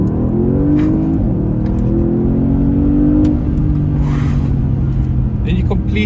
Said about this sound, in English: You can immediately feel the revs picking up there and the exhaust opening up.